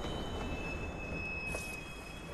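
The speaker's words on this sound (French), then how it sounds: "Oh putain, y'a le métro." A subway train pulls into a station in the video game Watch Dogs, a steady rumbling roar with a thin high squeal of wheels running over it and a brief hiss midway, no talking.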